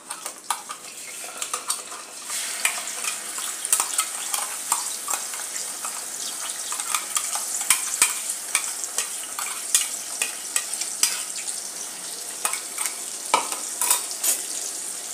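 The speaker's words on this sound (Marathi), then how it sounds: "ही पेस्ट गुलाबी होईपर्यंत आपल्याला परतायची आहे." Onion paste frying in oil in a pan, stirred continuously, with a bright steady sizzle and repeated sharp clicks of the spoon against the pan, growing slightly busier over time, no speech.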